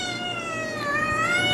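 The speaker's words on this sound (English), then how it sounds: "Do you have a problem, Mr. Singing Cat" An indoor cat lets out a loud, drawn-out, wavering yowl close to the listener, a sustained singing caterwaul that rises and bends in pitch.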